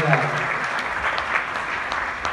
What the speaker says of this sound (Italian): fare un bel applauso perché dopo un anno è fatto